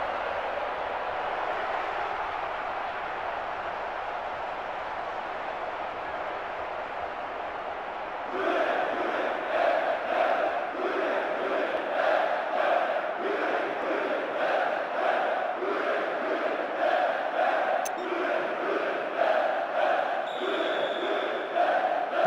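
Stadium crowd in the PES 2010 football video game cheering a goal, a steady roar that swells louder after about eight seconds into rhythmic chanting and celebration, with no voices standing out.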